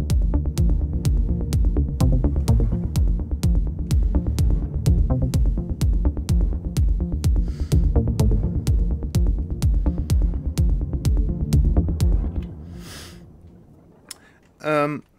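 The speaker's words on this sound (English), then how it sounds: "Today I'm going to show you how I use the bass station 2." A Bass Station 2 synthesizer plays a pulsing techno bass line under a steady, sharp kick-and-click rhythm, loud and driving before it drops away to quiet near the end.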